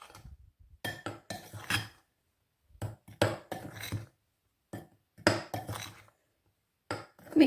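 A spoon clinks and scrapes against a bowl while stirring dry ingredients, including granulated sugar, for a tea loaf, in several short bursts separated by brief silences.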